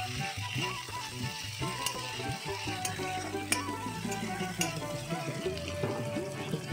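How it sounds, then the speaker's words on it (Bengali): Ginger paste and chopped tomato are stirred in a pan with ghee, cardamom and sugar for a katla fish and potato curry, giving a continuous sizzle under background music. "এবার আদা বাটা এবং টমেটো কুচিগুলোকে দিয়ে ভালোভাবে নাড়িয়ে নিতে হবে।"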